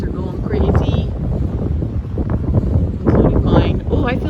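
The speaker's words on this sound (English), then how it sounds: "It's really windy." Strong wind blows outdoors under cloudy skies, a steady loud rumbling buffet on the microphone that runs throughout while a person talks over it.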